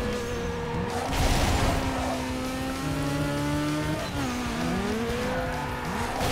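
In the racing game Need for Speed Underground 2, a car engine runs in the wrong gear with a strained, drawn-out whine whose pitch slides and shifts, mixed with tire squeal in a continuous, loud stretch without talk.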